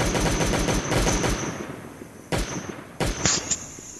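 Gunfire in the survival video game Last Day on Earth: a rapid burst of automatic shots, then a lull and a few sharp separate bangs, loud and close.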